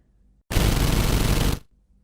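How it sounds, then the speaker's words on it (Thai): A single dense, continuous burst of rapid gunfire lasting about a second, loud and close, cutting off abruptly into silence. "เสียงปืนราวกับลูกโซ่ก็ดังขึ้นมาอีกครั้ง"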